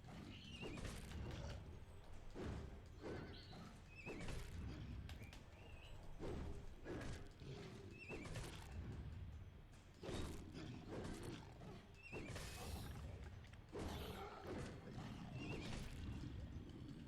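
A hobby horse weapon in the Alice: Madness Returns video game, with repeated horse neighs and whinnies over creaking, clattering mechanical game sounds, loud and continuous with dense combat noise.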